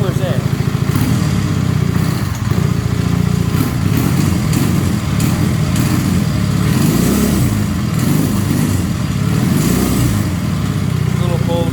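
A Honda CB250 motorcycle engine runs with its mufflers fitted, still cold. It holds a steady, close idle throughout, with a voice talking over it at times.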